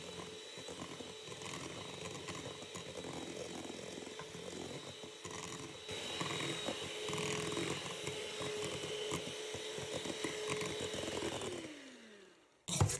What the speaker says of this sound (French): Selon la puissance de votre fouet électrique, cela prendra entre 5 à 7 minutes.